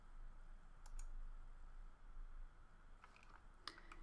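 A computer mouse gives a couple of small, sharp clicks near the start and a quicker cluster toward the end, faint and close over a quiet room hum.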